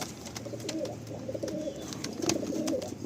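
Pigeons coo steadily in a breeding loft where a pair has raised a chick, a soft continuous murmur with faint scattered clicks and movement, no voices.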